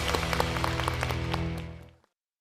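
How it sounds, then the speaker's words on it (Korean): A studio audience at a televised lecture on drug addiction breaks into dense, steady applause that holds evenly before fading out quickly near the end, with no one speaking over it. "박수 부탁드립니다."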